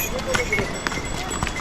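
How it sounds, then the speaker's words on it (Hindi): A horse bolts off with its rider during the Kedarnath Yatra pilgrimage, its hooves clip-clopping in a quick irregular run close by while someone talks over the steady background noise. "और ये घोड़ा अपनी सवारी को लेके भाग गया"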